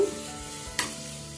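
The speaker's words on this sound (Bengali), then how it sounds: "এখানে এবার পেঁয়াজ রসুন আদা একটু ভালো করে ভেজে নিই" Onion, garlic and ginger fry quietly in a pan for chicken curry, a soft continuous sizzle with one brief scrape of a stirring utensil.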